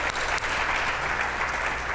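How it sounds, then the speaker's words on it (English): A conference audience applauds at a board diversity event, a short, steady, dense wash of clapping with no talk. "you could clap, it's pretty cool"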